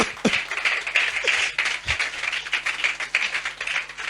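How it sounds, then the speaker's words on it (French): Audience at a stand-up comedy show applauds in dense, steady clapping that holds at an even level for about four seconds, with a couple of low thumps and no voices. "n'applaudissez pas ça"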